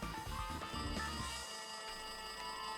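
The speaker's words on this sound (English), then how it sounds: "It looks like that phone is ringing." A phone rings in the Danganronpa 2 video game with a rapid electronic bell-like trill, fairly faint and steady, without talk.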